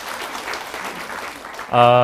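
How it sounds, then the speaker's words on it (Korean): Church congregation claps during a worship service, a dense steady patter for most of the moment, then a voice begins speaking over the fading claps. "우리 하나님께 감사와 영광을 박수를 드리겠습니다"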